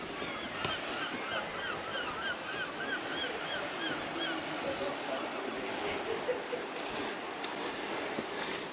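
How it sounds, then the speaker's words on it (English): Seagulls call repeatedly near Slains Castle on the coast, their short overlapping cries rising over a steady roar of wind and surf. "Seagulls have been annoying though."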